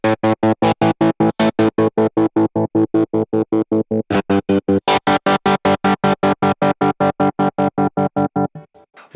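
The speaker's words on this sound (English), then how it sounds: "The third option is called the square tremolo, and that's kind of a more extreme, almost kind of chopped tremolo mode." TC Electronic Pipeline Tap Tremolo guitar pedal in square tremolo mode, chopping a sustained guitar tone into hard, evenly spaced on-off pulses at a steady quick rate, loud and alone, ending abruptly.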